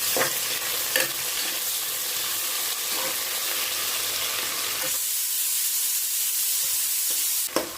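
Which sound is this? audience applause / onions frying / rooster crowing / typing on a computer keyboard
onions frying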